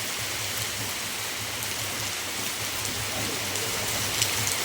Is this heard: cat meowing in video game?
no